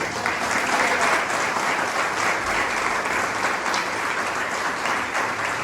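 Church congregation at a fasting and prayer meeting claps together, a thick continuous roar of hands from a large room, loud and even from start to finish.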